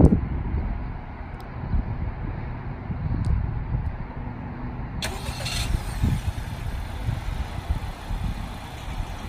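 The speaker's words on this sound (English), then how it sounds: "the factory remote engine start that this car is equipped with" A 2018 Honda Accord 2.0T turbocharged engine starting via factory remote start outdoors, with a low rumbling idle under wind noise and a brighter burst as the engine catches midway, then settling into steady running.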